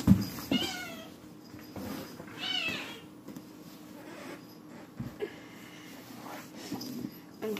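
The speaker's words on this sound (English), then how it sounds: "we just gonna sit down over here with the awesome lighting with my new kitten Mia" A young kitten meows several times indoors, thin rising and falling cries spaced a few seconds apart, close and fairly quiet over a faint room hiss.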